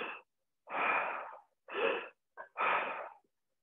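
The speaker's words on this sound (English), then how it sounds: "Let's take 3 breaths now just so that you can understand how it's going to feel." Four deep, forceful breaths drawn in and pushed out through an open mouth, each a breathy rush of air about half a second long, separated by short silences, close and alone.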